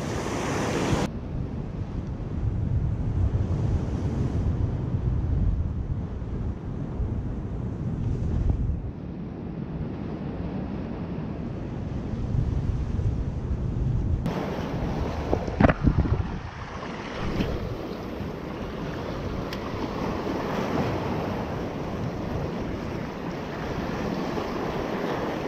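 Rough sea waves roll and crash on the shore along the Gazipaşa coast of Antalya, a steady loud roar with heavy wind buffeting the microphone and no voices.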